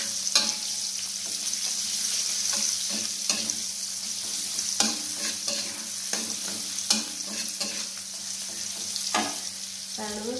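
Shallots fry in hot oil in a pan, sizzling steadily while a spatula stirs and scrapes against the metal in repeated clicks and knocks, close and clear with no talk.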